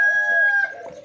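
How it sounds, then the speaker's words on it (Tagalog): A rooster crows loudly nearby, a single drawn-out call with a bright, strained tone that fades at the end. "ang ingay ng mga manok"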